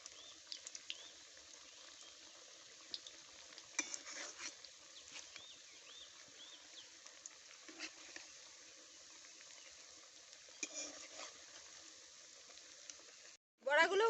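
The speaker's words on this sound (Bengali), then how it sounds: "এবারে আমি এই সুজির মিশ্রণ বড়ার মতো করে ভেজে নেব" Semolina batter spooned as small fritters into hot oil, fried for motichur laddu: a soft, steady sizzle with scattered faint crackles and pops, low and even throughout, ending in a brief louder clatter.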